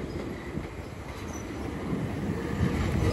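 A Class 375 electric multiple unit pulls slowly out of the sidings at Ashford International station, giving a steady low rumble that swells gradually with faint wheel noise, with no talking.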